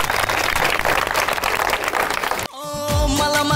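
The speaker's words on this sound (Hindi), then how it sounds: "गोटे जोरदार ताली हे जाओ" Loud, dense applause from a crowd at a live stage show fills the first two and a half seconds, then cuts sharply to quieter music.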